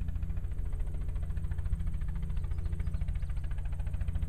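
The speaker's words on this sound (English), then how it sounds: "There's helicopters coming up these rows at us" Helicopter flying low over corn rows to blow pollen onto the plants, a steady rhythmic rotor thump with deep droning engine, sustained and fairly close.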